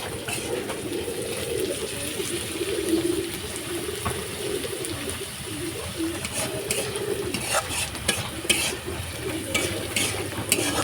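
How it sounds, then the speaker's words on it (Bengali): Pointed gourd frying with onion in a pan, a soft steady sizzle with intermittent stirring scrapes and utensil knocks, while birds coo faintly in the background. "এইভাবে পেঁয়াজ দিয়ে আর কি ভেজে নিই"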